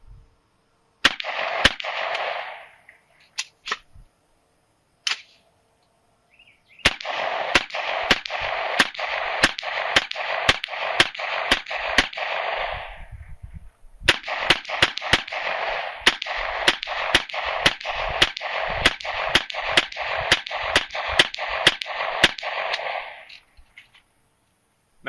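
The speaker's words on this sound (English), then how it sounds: "Third and final battery, 30 round course of fire." Rapid, loud, close-range gunfire from a 30-round course of fire at a beehive wire-mesh barrier during a range test, coming in three dense strings of sharp cracks separated by short pauses.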